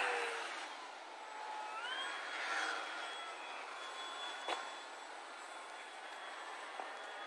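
A Dynam SU-26M RC model airplane's motor whines steadily, its pitch sliding up and down as the throttle changes. The aircraft stays at a moderate distance against faint outdoor background noise.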